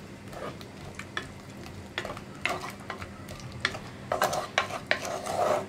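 A spoon scrapes and stirs a tomato and cowpea curry in a pan over a medium flame, with irregular close strokes that grow busier and louder toward the end over a soft background hiss.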